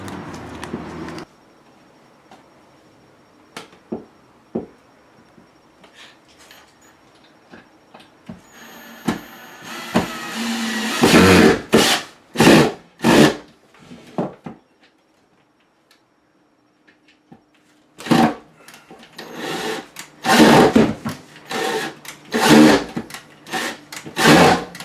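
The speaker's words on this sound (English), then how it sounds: "we're going to need to drill the next one here" Cordless drill boring into solid redwood wall studs during shelf installation, heard as repeated short loud bursts in two clusters after a quiet stretch with faint handling noises.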